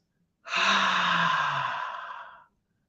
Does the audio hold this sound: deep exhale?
yes